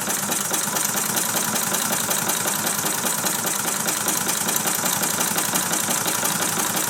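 A Meccano model crane's motor runs steadily while hoisting ten boxes of solid fuel, a close, even mechanical whirring with a fast rattling texture and no pauses.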